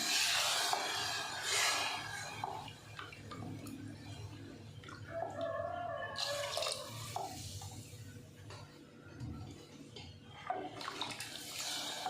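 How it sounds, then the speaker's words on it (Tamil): Water is poured into a mixer grinder jar while potato curry is being made, with a soft splashing trickle and light drips, fairly faint and close, and no talk over it. "உங்களுக்கு எவ்வளோ தண்ணி வேணுமோ அவ்வளோ ஊற்றிக்கங்க."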